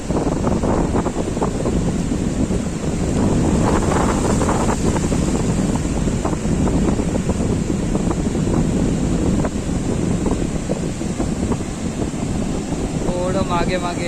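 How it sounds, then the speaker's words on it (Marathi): Rough sea waves and strong wind buffet a small fishing boat out for cast-net fishing, a steady loud roar of gusts and water splashing throughout, with voices now and then underneath. "लाट किती वरती येतो"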